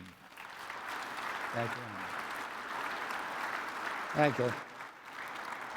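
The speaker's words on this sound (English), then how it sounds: "That's worth a round of applause for this gentleman." Audience applause at a conference hall session for a gentleman, a steady wash of clapping throughout while someone speaks briefly over it twice.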